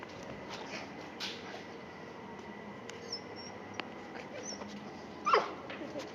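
A dog makes faint, high whimpering squeaks over steady background noise, with a slightly louder yelp near the end.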